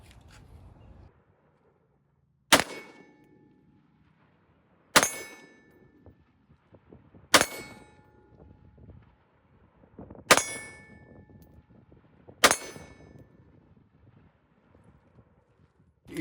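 Five AR pistol shots ring out at even intervals, each a sharp, close crack with a short metallic ring, separated by near-quiet gaps.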